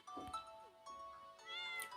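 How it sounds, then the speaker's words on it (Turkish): A cat meows two or three times in the Stardew Valley video game, short clear calls separated by brief pauses with little else around them. "Bu kedi evet."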